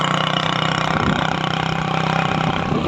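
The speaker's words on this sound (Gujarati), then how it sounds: "આ બાઇકમાં અવાજ આવે ફૂલ" A motorcycle engine runs with a steady, loud, rough drone throughout, close up, with no voices.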